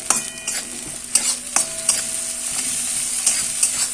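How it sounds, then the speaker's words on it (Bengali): Tomatoes frying with onions in a pan for fish curry, a soft steady sizzle broken by repeated scraping stirs of a spatula, close and fairly quiet with no talking. "এরপর আমরা দিয়ে দিচ্ছি টমেটোটা দিয়ে দিচ্ছি।"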